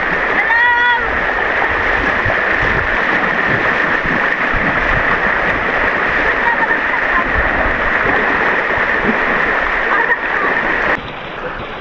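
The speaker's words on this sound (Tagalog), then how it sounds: "Tunan nyo yung agos dito, mas malakas." Strong rain-swollen current of the river at Caunayan Falls in Baler, Aurora, a loud continuous rushing wash of water close by, with people talking over it and a short sharp sound near the end.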